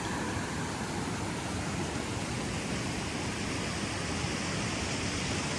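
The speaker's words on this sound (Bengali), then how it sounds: "এখানে একটা সামনে দিকে কিউট একটা ঝর্ণা দেখেন, পানিগুলো আস্তে আস্তে পাহাড়ের মধ্যে থেকে।" A small waterfall trickling down from the hills, a steady dense rush of water that holds evenly at moderate level with no pauses and no voices.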